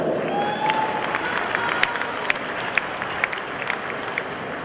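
Crowd applause at the FEI World Cup driving event in Mechelen, greeting horse driver Koos de Ronde: a steady, dense wash of clapping through the whole stretch, with a few sharper individual claps standing out near the end.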